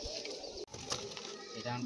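Young Ablook and Lalshira pigeons coo and flutter softly nearby, faint and close, while a person talks over them.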